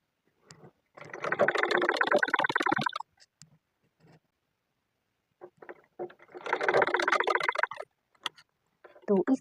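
A sewing machine stitches the neckline of a simple suit in two loud, close bursts of rapid mechanical chatter, separated by quiet gaps with a few soft handling clicks, the second run followed by brief shorter bursts.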